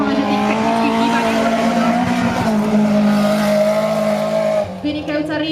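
Autocross race cars run fast on a dirt circuit at Môlča, engines droning and revving steadily with some tire noise, under continuous commentary from an announcer.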